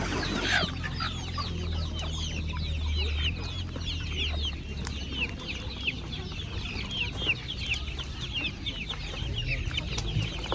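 Chickens clucking at a busy market, a dense continuous chorus of clucks and cackles with steady crowd and background noise underneath.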